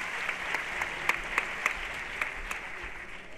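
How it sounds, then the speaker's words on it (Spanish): A crowd claps steadily and continuously, a dense wash of applause with a few sharper claps standing out. "Un fuerte aplauso."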